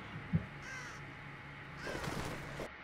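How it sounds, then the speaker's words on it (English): Crows in The Evil Within give a few harsh caws at moderate distance, one early and a longer burst near the end, with a faint thump near the start. "Shoot the fucking crows."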